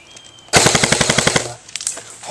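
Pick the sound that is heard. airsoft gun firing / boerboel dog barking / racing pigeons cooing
airsoft gun firing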